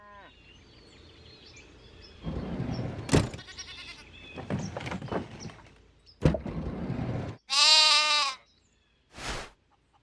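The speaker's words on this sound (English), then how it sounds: "goat" Several goat bleats, loud and close, come in bursts separated by short gaps, with quieter bleating early on and one sharp cry near the end.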